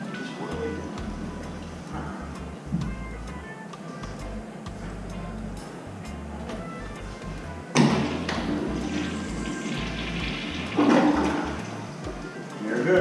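Sloan flushometer on a wall-hung toilet flushing and leaking, a loud rushing surge of water with a thud at its start, then continued flowing water and a second surge; faint voices in the background.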